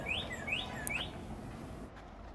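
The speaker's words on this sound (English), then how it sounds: "My favorite little birds singing." Small birds chirp in a summer garden with a tiered planter of lettuce and strawberries, giving a few quick, thin, rising tweets early on, then going quiet over soft outdoor hiss.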